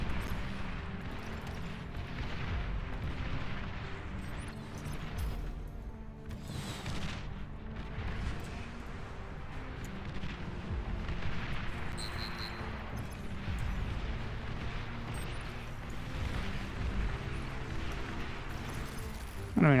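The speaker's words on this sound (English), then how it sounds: "There's artillery on every hill." Artillery pounding away in the real-time strategy game Beyond All Reason, a dense continuous rumble of distant booms and blasts layered under talking.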